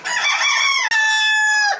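A Egyptian Fayoumi-type farm rooster crows loudly and close by in one long harmonic call with a short break near the middle, heard on its own without talk.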